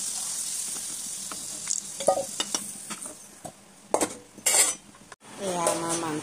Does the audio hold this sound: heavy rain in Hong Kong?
no